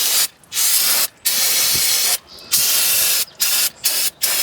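Brake cleaner hisses loudly in repeated bursts onto the brakes of a 2007 Ford Expedition, six or so close sprays separated by short silent gaps.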